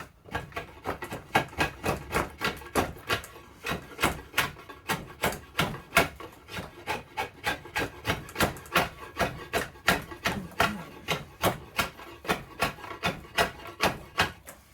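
A knife carves a tough ash longbow stave, its blade not blunt but in need of sharpening, making a steady run of sharp, close scraping cuts in a quick, even rhythm, one after another with no talk.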